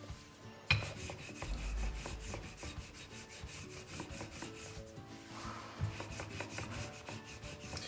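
A rolling pin works gyoza dough very thin on a board, giving a steady, close rasping rub with soft knocks and scrapes, one sharper knock near the start, no talking.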